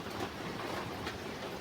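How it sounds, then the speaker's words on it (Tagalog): Heavy rain falling steadily outdoors, a dense continuous hiss and patter that stays close and loud throughout with no other sounds. "Tubigan na ng ulan,"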